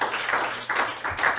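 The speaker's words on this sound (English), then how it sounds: "Big round of applause for all the other performers tonight" An audience at a live comedy and performance night claps in applause for the performers, a brief burst of dense, steady clapping heard alone.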